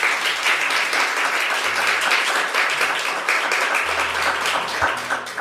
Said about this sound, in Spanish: esto no son efectos de sonido, ¿no? No es una biblioteca de sonido, sino que son aplausos reales